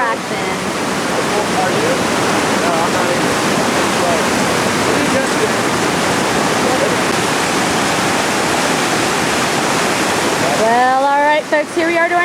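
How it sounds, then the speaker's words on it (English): Whitewater rapids on the Lower Gauley River, a loud, continuous rushing roar of churning water, with a voice speaking over it near the end. "I'm going to be headed downstream to our next big Class 5 rapid at Lower Mash."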